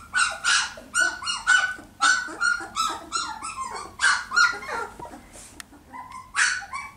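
A dog barks, yips and growls in short, energetic bursts while playing with toys. The close, lively sounds come in a steady run of rapid outbursts with brief pauses between them.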